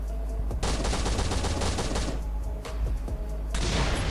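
Rapid gunfire in the survival game Last Island of Survival during a base raid, with dense bursts of automatic shots continuing nearly without pause and a short lull near the middle, loud and close.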